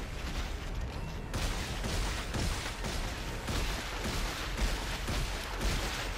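Sustained gunfire aimed at a monster in Dead Space 3, a steady run of loud, closely spaced shots with a booming low-end rumble, continuing for several seconds without talk.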